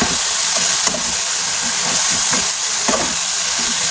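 Two eggs frying with softened tomatoes in a small pan, a loud, close, continuous sizzle and hiss with faint intermittent crackles throughout.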